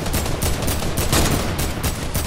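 Rapid gunfire in Fortnite aimed at knocking down a built wall, a dense, loud stream of overlapping shots with short bursts running continuously, close up and with no voices.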